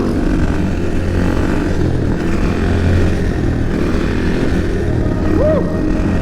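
A motorcycle engine drones loudly and steadily while the rider pulls a wheelie, a continuous close rumble with slight rises in pitch and no clear separate revs.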